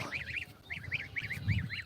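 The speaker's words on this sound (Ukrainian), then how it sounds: "Ото став тепер гусяк." A gander honks repeatedly in quick pairs and triplets, loud and nearby, with faint rustling underneath.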